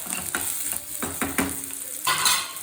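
A spoon stirs turmeric and salt into a sizzling mixture in a pan for vada pav, giving repeated scraping strokes over a constant bed of frying hiss, with the odd clink of metal.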